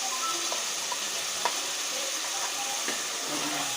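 Onion paste blended with cashew and melon seed sizzles and fries steadily in hot oil for a capsicum masala curry, a continuous close hiss with a few soft stirring clicks and no voices.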